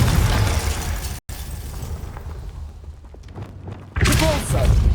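Confringo fire spell blasts in the Hogwarts Legacy video game, a loud burst at the start, a brief cutout, then a second booming impact near the end, with a sustained rumbling roar between.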